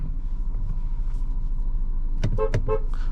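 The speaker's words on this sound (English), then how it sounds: "Good horn." Two short, close toots of a 2024 VW Atlas Cross Sport SEL Premium R-Line horn sound over a low cabin rumble near the end, with no talk.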